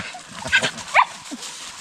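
Dogs in a forest outing group giving a couple of short, close barks and yips, with people talking around them.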